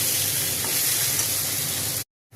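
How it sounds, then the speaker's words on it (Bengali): Steady crackling sizzle of broken wheat frying in a hot pan, with faint scraping of stirring, loud and continuous before cutting off abruptly at the end. "এবার ডালিয়া ডালটা দিয়ে দিলাম। এইটা একটু নাড়াচাড়া করে তারপরে মশলাটা দেবো।"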